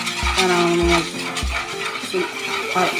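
Flour being stirred into melted butter in a pan, with a few soft scraping strokes and faint sizzling, regular and close, under a woman's speech.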